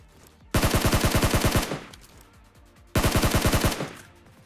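Two loud bursts of rapid tap-fire gunshots from PUBG Mobile gameplay, each a run of about ten evenly spaced shots, separated by a short gap with fading echo.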